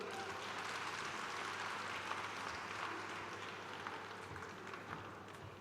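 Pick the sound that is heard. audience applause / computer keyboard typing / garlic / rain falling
audience applause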